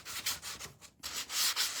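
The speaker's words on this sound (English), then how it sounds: "sanding it down" A wooden sconce is sanded by hand with repeated back-and-forth rubbing strokes. The strokes are close and fairly clear, with one brief pause in the middle and no talking.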